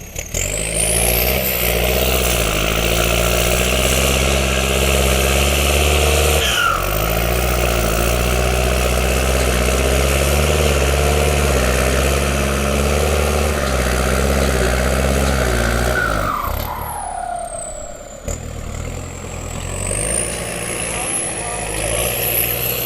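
A deep, rumbling engine idles steadily and loudly up close, with a whine from its newly fitted stage 1 turbo kit riding on top and a brief dip in revs near the end.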